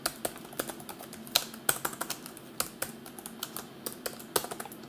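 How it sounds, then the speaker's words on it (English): Typing on the keyboard of a Dell XPS 15 9550 laptop: a steady run of crisp, close key clicks with irregular rhythm and occasional heavier strikes, fairly quiet, with no talking. "Keyboard is actually quite comfortable, and I don't know whether you can hear it or not"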